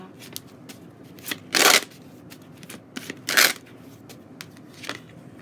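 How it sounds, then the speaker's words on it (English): Tarot cards being shuffled and cut by hand, with two loud riffling bursts and scattered lighter card taps and slides close by, in an otherwise quiet room. "not at me shuffling and cutting the cards"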